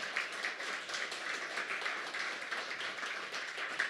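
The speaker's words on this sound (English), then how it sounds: "How about just a round of applause?" A round of applause from an audience at a public science talk event, continuous quiet clapping with a crowded, roomy texture, heard alone without speech.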